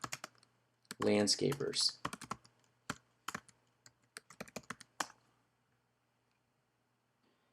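Typing on a computer keyboard: a quick flurry of close clicks, then scattered individual keystrokes tapering to silence, with a short spoken word among them.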